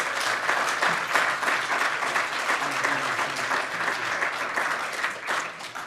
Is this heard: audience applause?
yes